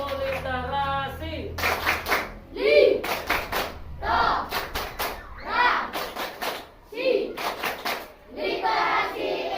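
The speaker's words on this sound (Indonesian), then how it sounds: "Kita berikan tepuk tangan dulu ya." A crowd of schoolchildren at a primary school library claps in bursts of applause, with shouting voices and thumps mixed in, fairly loud and close.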